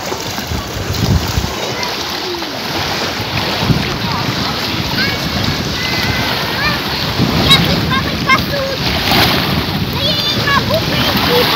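Strong wind roars across the microphone at the sea shore in Lazurnoye, with rough waves splashing against the beach underneath, loud and gusting continuously.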